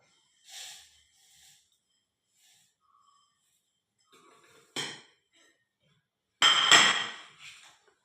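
A spoon stirs soaked red matta flattened rice in a jar, giving a few short clinks and scrapes separated by quiet gaps, with the loudest stroke near the end and no talk.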